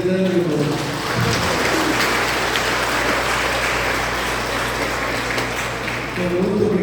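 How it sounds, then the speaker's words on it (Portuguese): Congregation applause for a pastor at a church gathering in Guajará-Mirim, a dense, steady wash of clapping that fills the room for several seconds, with voices at the edges. "Uma salva de palmas, pastor Hernando"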